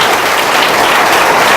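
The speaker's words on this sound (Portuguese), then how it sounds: "Pai, receba o nosso aplauso" A church congregation applauding during a service, dense steady clapping that fills the whole moment at an even, loud level.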